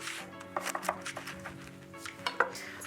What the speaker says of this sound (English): I'm just going to cut that up into some chunks